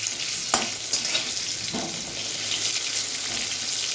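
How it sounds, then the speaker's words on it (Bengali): Potatoes sizzle and crackle as they deep-fry in hot oil until browned for a mutton curry, a dense continuous fry with a few scraping stirs, close by and without talk. "আলুটাকে বেশ ভালো করে লাল লাল করে ভেজে নেব"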